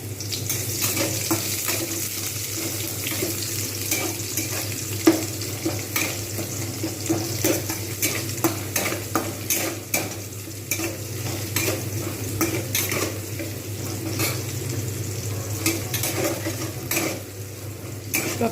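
Onions frying in hot oil left from cooking eggs for an egg korma, a dense, steady sizzle up close with occasional scrapes and stirring knocks throughout.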